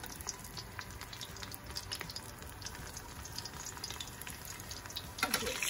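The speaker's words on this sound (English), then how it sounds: "It's sizzling." Panko-breaded geoduck (king clam) tempura fries in a pot of hot oil, giving a dense, steady crackling sizzle with a brief louder burst near the end.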